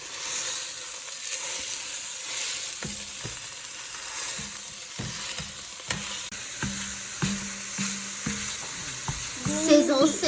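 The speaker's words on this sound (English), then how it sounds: "We're gonna brown this meat" Beef browning in a frying pan, a steady close sizzle with periodic scraping and stirring knocks from a utensil, louder crackle near the end.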